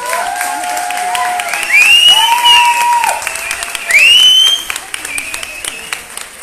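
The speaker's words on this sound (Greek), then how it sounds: "Το πιο δυνατό χειροκρότημα." Loud sustained applause from a live concert audience, steady clapping carrying through the whole stretch while sung or called voice lines rise above it.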